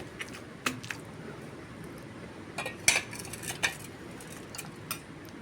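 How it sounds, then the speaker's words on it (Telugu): Brinjal being pounded in a mortar for chutney, giving scattered soft squishy thuds and a few sharper clinks at uneven intervals, close by with no talking. "కొంచెం ఇలా నూరితే చాలు నలిగిపోతాయి మొత్తం కలిసేలాగా దంపుకోవాలండి"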